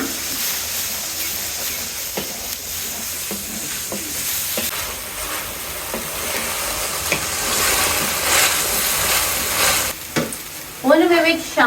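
Chicken fries with onion and bell pepper in a hot pan, making a loud continuous close sizzle and hiss with repeated stirring scrapes; a brief voice sounds near the end.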